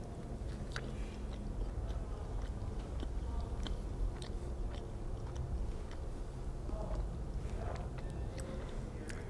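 Quiet, close chewing and soft biting of a peanut butter and Havarti cheese sandwich, a steady run of small crunchy mouth sounds with no talking.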